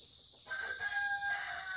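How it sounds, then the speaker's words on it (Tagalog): Backyard chickens raised for eggs, with a rooster's crow rising faintly from some distance over quiet clucking and rustling, a single drawn-out call with no talk. "Ito yung mga manok ko."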